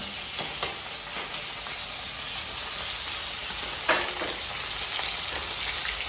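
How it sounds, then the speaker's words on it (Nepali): Chicken meat frying in a pan over normal heat for a chicken curry, a steady close sizzle with occasional soft scrapes and knocks as the pieces are stirred. "नर्मल हिटमा हामी मासुलाई चलाउँछौँ।"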